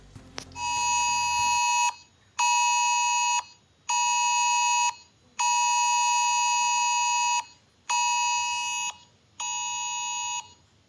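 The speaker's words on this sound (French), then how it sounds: "vous pourrez recevoir une notification accompagnée d'un signal sonore spécifique" A French FR-Alert emergency phone alarm sounds in repeated loud, harsh electronic tone bursts, about seven of them separated by short gaps, with no talking.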